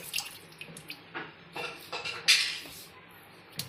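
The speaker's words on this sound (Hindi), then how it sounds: "फर्स्ट अपन ककड़ी धो लेंगे।" Cucumbers rinsed under a running kitchen tap, a soft steady water stream with irregular splashes and drips from hands turning the vegetables, fairly close and quiet.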